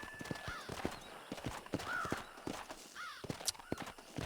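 Horse hooves clip-clop in the video game Red Dead Redemption, a brisk irregular run of hard knocks with a horse whinny rising between them, close and clear.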